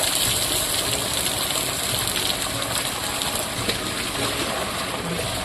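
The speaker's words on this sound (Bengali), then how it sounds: "এখন মাথায় জল ঢেলে দিব" Water gushes steadily over a person's head during bathing, a continuous loud splashing pour with no break.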